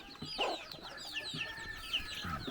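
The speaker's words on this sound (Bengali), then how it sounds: "মোরগ মোরগ" Rooster clucking in a hilly village, a series of faint, scratchy clucks spaced irregularly, with no talk.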